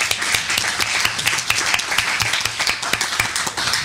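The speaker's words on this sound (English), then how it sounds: "A round of applause for David." An audience applauds a Christian debater being introduced at a debate on whether God exists, with dense, steady clapping that stays loud and close throughout.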